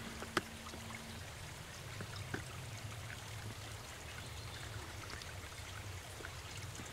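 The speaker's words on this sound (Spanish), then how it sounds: "A los pies de un riachuelo." Small stream flowing through a forest of beech, hazel and oak, a steady, soft broadband rush of water with faint trickles, a couple of brief knocks early on, no voices.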